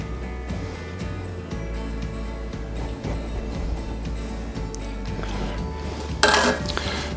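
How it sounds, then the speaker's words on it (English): Metal spoon working an egg into creamed butter and sugar in a bowl, giving steady soft scraping and clinking against the bowl, with a brighter clatter near the end. "we're going to sort of cream the two together, just using the back until it starts to come together"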